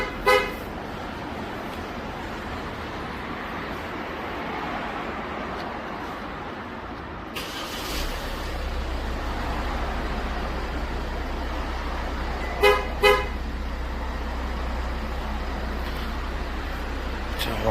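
A Kia Sorento sounds two short horn chirps close by after a remote engine start, then the engine settles into a low steady idle.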